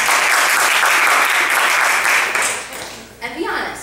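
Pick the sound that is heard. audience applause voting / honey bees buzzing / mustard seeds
audience applause voting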